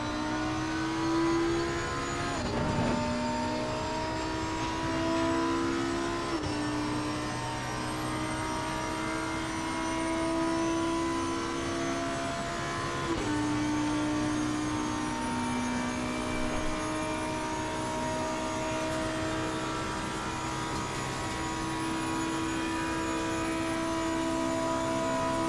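A Lamborghini Huracan EVO GT3 races around Paul Ricard in Assetto Corsa Competizione, its loud high-revving engine climbing through the gears with sharp upshift drops, running continuously and alone without talk.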